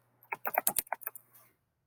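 Quick burst of computer keyboard typing, roughly ten crisp keystrokes in a fast irregular run, close and fairly quiet with a low steady hum beneath, then stopping into near silence.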